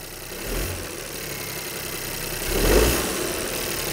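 A three-cylinder direct-injection car engine with a suspected downsizing engine fault idles close by and then gets two short blips of throttle, swelling and falling back to a rough idle.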